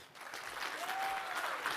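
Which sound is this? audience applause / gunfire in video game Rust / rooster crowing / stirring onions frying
audience applause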